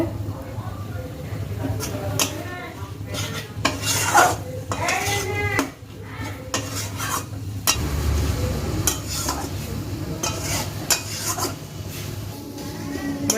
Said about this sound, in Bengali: আর একটুখানি মশলাটা আমি কষবো